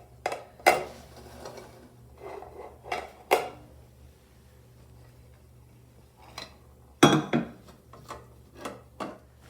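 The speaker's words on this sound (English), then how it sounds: "Before flipping, make sure you run a knife around all 4 sides of the baking pan." A knife scraping and tapping around the sides of a metal baking pan holding a pineapple pecan upside-down cake, with sparse, faint clicks and a few sharper knocks.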